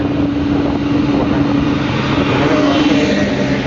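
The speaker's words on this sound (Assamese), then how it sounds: "ট্ৰেক্টৰত পানী আনিছে।" A tractor carrying a water tanker gives a loud, steady engine drone that holds at an even level without pause.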